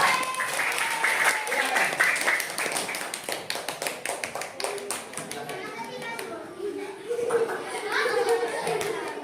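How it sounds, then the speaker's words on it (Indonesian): Children clapping in a classroom, lively rhythmic applause with sharp individual claps that thins out midway, while kids' voices chatter and call out underneath. "Tepuk tangan yang meriah."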